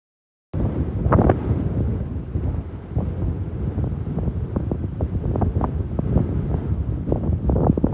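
Gusty wind buffets the microphone in rough, continuous rumbling bursts after a moment of silence, loud and close with no voices.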